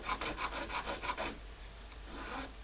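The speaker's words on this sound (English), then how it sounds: "hard to even out spots with your sandpaper" Sandpaper rubs back and forth over a carved bone fish hook in rapid, rhythmic rasping strokes, close and steady, then a lighter, slower pass after a brief pause.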